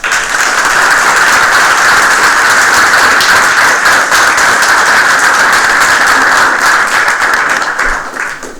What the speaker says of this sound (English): if we can all give them one more round of applause